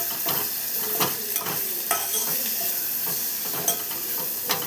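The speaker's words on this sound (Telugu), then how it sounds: "జీలకర్ర, ఆవాలు వేసేసుకొని ఉప్పు, కారం వేసేసుకొని ఒకసారి అయితే కలుపుకొని" Cumin, mustard seeds, salt and chili powder stirred in a hot pan, with a steady close frying sizzle broken by repeated scraping strokes of a spoon against the metal.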